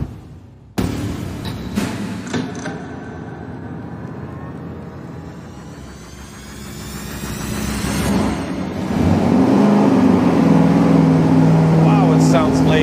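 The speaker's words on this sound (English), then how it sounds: "what we're gonna do now is our first pull with the camshaft advanced even more" A Chrysler 440 V8 with the camshaft advanced 10 degrees total runs a loud, continuous dyno pull on an engine stand, the roar building steadily and growing heavier and louder through the second half.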